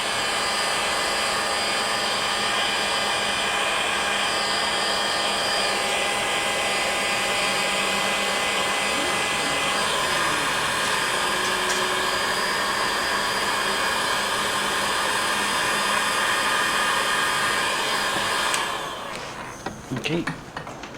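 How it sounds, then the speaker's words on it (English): A heat gun or hair dryer blows on an iPod Touch 4th generation screen in a steady loud blowing roar that lasts nearly twenty seconds before cutting off, leaving scattered handling sounds. "That's the purpose of the heat gun and the hairdryer."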